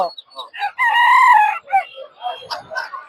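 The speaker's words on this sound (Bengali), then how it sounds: "এগুলো তো দেশি মুরগি না কিন্তু" Chickens at a Sunday duck and chicken market in Tongi clucking in short bursts around one long, loud rooster crow, close to the microphone, with voices faintly in the background.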